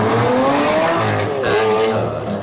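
Liberty Walk Lamborghini Aventador supercar, the first in Europe, built by Race Engineering, revs loudly up close, its engine note climbing and dropping in a continuous roar across the short stretch.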